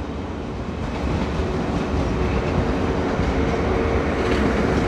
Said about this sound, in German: Kommt so ein schöner ICE.